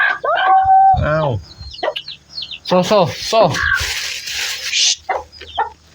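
Chickens cluck and call close by in short bursts, with louder crowing-like cries rising among them, interspersed with people talking.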